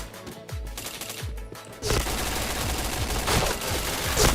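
Rapid bursts of automatic gunfire from the online shooter game Point Blank, a few sharp shots first, then a loud, dense, sustained stream of fire with no voices.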